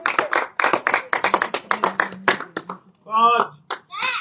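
A crowd claps in bursts to cheer on a 50-year-old man taking up a challenge, the sharp hand claps mixed with loud nearby voices counting and calling out encouragement in Hindi.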